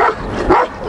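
A search dog on a rubble pile gives a short bark or yip, close and fairly loud, with a low thump and scattered background noise around it.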